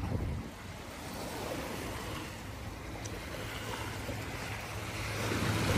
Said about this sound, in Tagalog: Ito yung ating dagat ngayon sa Dolomite Beach po.